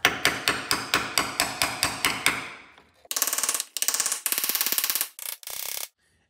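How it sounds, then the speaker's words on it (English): A hammer drives a chisel against spot-welded metal panels on a car's front radiator support, starting with a quick even run of about a dozen sharp ringing metallic strikes, then several harsher grinding bursts, loud and close. "pry them apart and chisel out any remaining contact of those spot welds"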